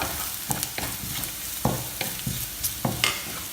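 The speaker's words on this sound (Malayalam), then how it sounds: "ഈ കോക്കനട്ട് ഒന്ന് ലൈറ്റ് ബ്രൗൺ ആവുന്ന വരെ നമുക്കിതിങ്ങനെ വഴറ്റി കൊടുക്കാം" Grated coconut being sautéed in a pan for a Kerala pumpkin and bean erissery, stirred until light brown, with repeated scraping strokes over a steady soft sizzle and no voices.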